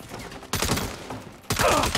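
Sniper and other gunfire in the Saints Row reboot video game, heard as two dense bursts of crackling shots, each about a second long, separated by a brief lull.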